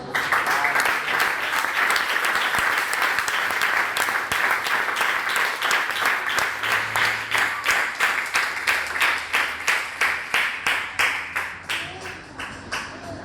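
A church congregation applauding, first a dense wash of clapping, then settling into slower rhythmic unison claps that gradually fade.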